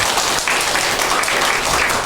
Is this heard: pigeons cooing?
no